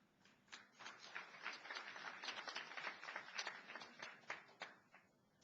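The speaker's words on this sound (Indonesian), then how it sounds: "Tepuk tangannya kayak orang ngiri." A church congregation claps during a sermon, a burst of distinct, fairly close handclaps with an uneven rhythm that rises and falls before trailing off.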